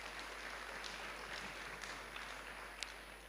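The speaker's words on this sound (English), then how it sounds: "let's give them a round of applause" Faint, distant applause from an audience at a WorldSkills South Africa gathering, a thin continuous wash of clapping over a low steady hum, with no voices.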